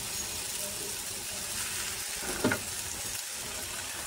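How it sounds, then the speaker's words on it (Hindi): A square layered paratha sizzles on a hot griddle over a medium flame, a steady, even hiss of frying that continues throughout, with one small crackle partway through. "अब मैं डालूंगी इस पे पराठा।"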